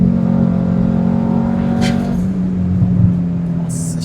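An Audi RS3 with a 2.5-litre five-cylinder engine on a stage 2 tune accelerates hard, its loud, close engine note rising before a quick gear change drops the pitch, with a faint voice in the background.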